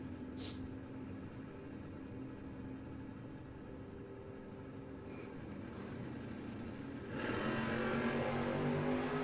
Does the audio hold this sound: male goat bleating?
no